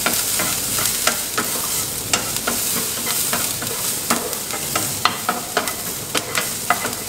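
Green chillies sauté in a hot pan, giving a dense, steady sizzle with frequent crisp pops and crackles, loud and close throughout, no talking.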